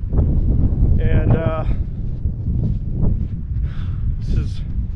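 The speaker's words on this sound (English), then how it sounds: "It's still very windy." Steady, heavy wind noise buffets the microphone throughout on a white-sand beach near Fort Morgan on the Florida National Scenic Trail, a constant low roar with brief bursts of other sounds over it.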